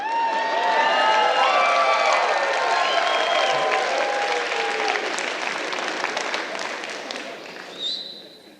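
Loud, sustained applause from a large audience at a TEDx talk, dense clapping with some cheering mixed in, fading slightly toward the end.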